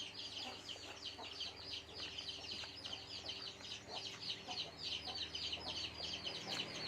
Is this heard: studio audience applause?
no